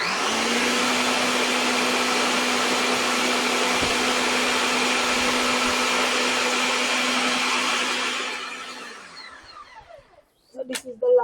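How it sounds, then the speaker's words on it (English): A blender grinds coconut for homemade coconut oil in a loud, steady whirring drone for about eight seconds, then winds down and stops, followed by a few clunks and handling noises. "we are continuing to blend"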